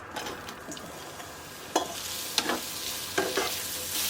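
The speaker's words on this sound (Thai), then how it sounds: "ต่อไปผมจะผัดแครอทต่อครับ" Carrots stir-fry in a pan for Korean bibimbap, a steady close sizzle broken by several sharp scraping stirs of the utensil against the pan.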